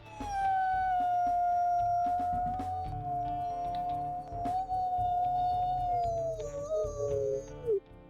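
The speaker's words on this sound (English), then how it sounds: "Now, as for her howls here, we'll go ahead and listen to them. Here's her primary." A female wolf's primary howl in the WolfQuest Wayfinders video game, a single long, high-pitched howl that holds steady and then slides downward, loud and alone over a low ambient bed.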